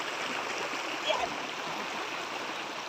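Steady rushing of a river stream on a farm lot in Laguna while crossing it, a continuous broadband flow close by with a brief splash partway through.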